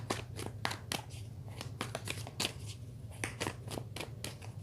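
Tarot cards being shuffled by hand in a quick steady riffle, crisp repeated flicks and slaps close up with a low hum underneath.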